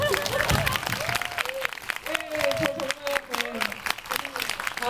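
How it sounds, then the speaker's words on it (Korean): A cinema audience at a post-screening talk gives warm applause, scattered clapping and crowd noise running steadily while someone speaks over it. "저 좀 박수 좀 쳐주세요"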